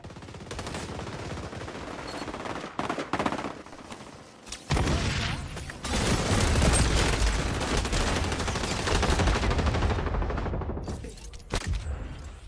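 Sustained automatic gunfire in the multiplayer shooter XDefiant, dense bursts of rapid shots with heavy booming stretches, loud and close, pausing briefly around the middle and near the end.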